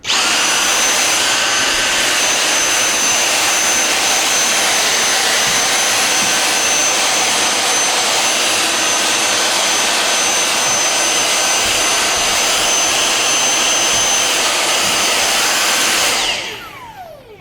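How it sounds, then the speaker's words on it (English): A vacuum cleaner fitted with a broad adjustable head runs loud and steady across glued-down model railway scenery, a continuous whirring roar that cuts off near the end. "Now you'll see there that I'm vacuuming all of the scenery as well"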